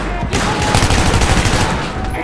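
Dense, loud gunfire from a Battlefield 3 match roars in a continuous rapid burst, close and harsh, with some voices faintly underneath.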